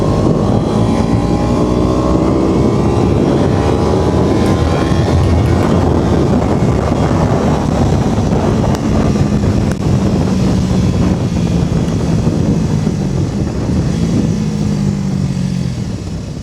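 A classic motorcycle engine drones loudly while riding, its pitch rising and falling through the gears under heavy wind rush, with no talking.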